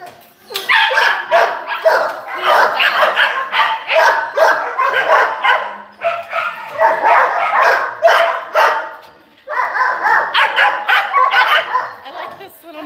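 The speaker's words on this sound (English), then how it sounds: "I'm gonna play with some of these dogs." Several dogs at an adoption shelter bark and yip in repeated loud bursts close by, with brief pauses between flurries and a whimper now and then, filling the space continuously.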